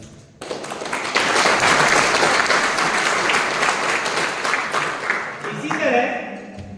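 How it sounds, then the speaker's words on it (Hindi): A seminar audience at a business training session bursts into brisk, full clapping that swells quickly, holds for several seconds, then thins out and fades before a voice resumes. "कुछ लोगों ने ताली बजाई, कुछ लोगों ने नहीं बजाई"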